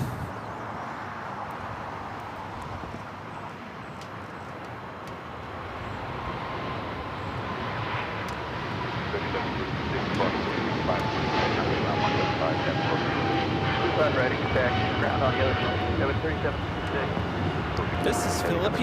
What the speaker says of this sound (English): This is Philippine Airlines 113 taking off to Manila on the 777-300ER